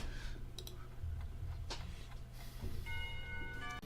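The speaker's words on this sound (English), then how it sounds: "When the final bell sounds" A school bell in the visual novel Katawa Shoujo chimes with clear ringing tones near the end, over faint background ticks and clicks.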